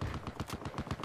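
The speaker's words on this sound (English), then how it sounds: "Burst fire." Rapid bursts of gunfire in the video game Battlefield 4, a quick string of sharp repeated shots at an even, fast rhythm, fairly quiet in the mix.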